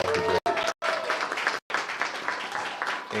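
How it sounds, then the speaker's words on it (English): Audience applause at the grand opening of Miss Eva's in Detroit, welcoming owner Jay Williams: a dense, steady wash of clapping from a crowd, broken by a few short silent gaps and continuing for several seconds. "Give a round of applause for Jay."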